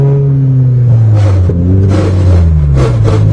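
Toyota GTS engine revving up and down in several bursts as gears are tried, close and loud, with a rumbling low tone that rises and falls in pitch.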